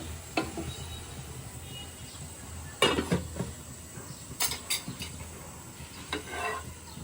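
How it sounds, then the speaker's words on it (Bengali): Potato bhaji frying in a pan on a stove, a soft steady sizzle broken by a few sharp clinks and scrapes of a utensil stirring against the pan. "পুড়ে যাচ্ছে তো চুলার হিটটা কমিয়ে দাও আলু ভাজিটা আরেকটু শুদ্ধ হবে"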